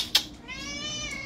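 A house cat gives one short, close meow indoors, following a faint click in a quiet room.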